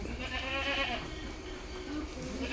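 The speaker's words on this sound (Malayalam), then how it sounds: "അങ്ങോട്ട് നോക്കിട്ട നല്ലൊരു പർപ്പസാരി ആട്" A large dairy goat of the Parbatsar breed, at a farm selling crossbreed goats, gives a few wavering bleats partly buried in steady, noisy background sound.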